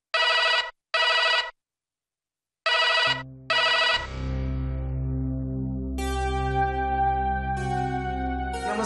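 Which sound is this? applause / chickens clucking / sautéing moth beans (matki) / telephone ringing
telephone ringing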